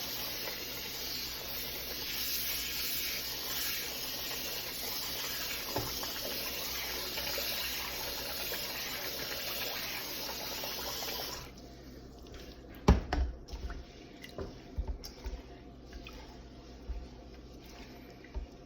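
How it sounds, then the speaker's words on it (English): Tap water gushes loudly and steadily into a container to soak sticky rice for suman, then cuts off abruptly, leaving a few soft knocks and splashes. "I'm going to soak them in the water as well."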